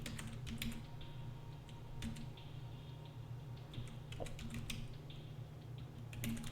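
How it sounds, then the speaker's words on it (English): Light, quick keystrokes tap in short bursts on a computer keyboard, faint and close over a steady low hum, with brief pauses between the runs of clicks. "So we're going to type in Poison Wind Sensor."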